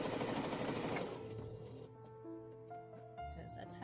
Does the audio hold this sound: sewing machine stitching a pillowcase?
yes